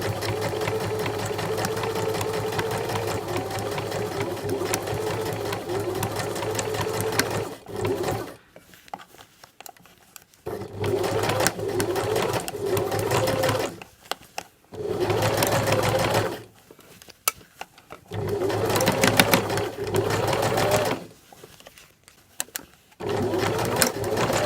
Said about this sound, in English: stitch around the seam, taking care to make sure that you're not puckering the fabric as you go along